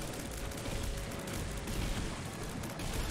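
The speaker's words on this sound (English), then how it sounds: "The seemingly infinite amount of explosions on this guy should do a good job." Dense explosions burst without pause in the video game The Binding of Isaac: Repentance. The blasts overlap into a loud crackling barrage like gunfire, with a thin steady tone running underneath.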